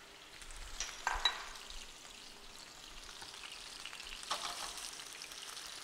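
Chicken sautéing in a sauté pan over a medium flame for balsamic chicken: a soft, steady sizzle with a louder burst around one second and another near four seconds, no talking.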